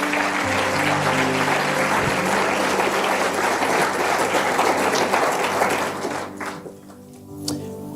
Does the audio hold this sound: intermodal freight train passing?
no